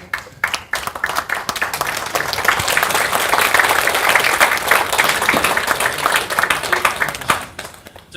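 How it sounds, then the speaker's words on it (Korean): A seminar audience at a documentary film preview claps together in sustained, dense applause, rising and holding steady for several seconds before tapering off near the end. "우리 모두 우리 자신을 위해서 박수 한번 쳤죠?"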